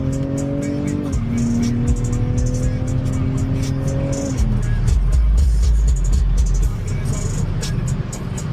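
A BMW M340 accelerating hard in fourth gear onto a highway entrance, its engine note climbing steadily through a gear change and then roaring loud and close with road and wind rush.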